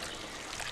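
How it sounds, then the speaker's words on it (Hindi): Water trickling and dripping into a cup of tea, a faint, steady hiss of falling liquid with soft splashy texture, brief and unaccompanied by speech. "ये पानी मेरी चाय में गिर रहा है"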